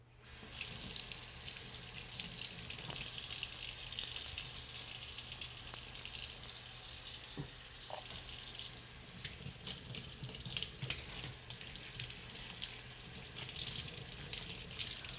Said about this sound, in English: make sure that you are washing your produce thoroughly